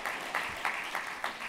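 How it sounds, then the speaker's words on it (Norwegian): Applause from a party conference audience in a hall, a steady clapping crowd with rhythmic swells of stronger claps recurring about every third of a second, fairly loud and with no speech over it. "det er lov å klappe for det"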